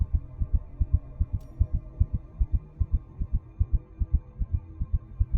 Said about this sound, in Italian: Il cuore batté un colpo così forte che temetti di tradirmi.